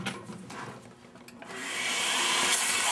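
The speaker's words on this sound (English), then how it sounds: "I'll take the ball out of the jig, use my bevel sander, and I just want to clear that out a little bit" A bevel sander clears out a freshly drilled hole in a bowling ball: faint scraping at first, then the motor spins up into a rising, steady high whir, close and alone.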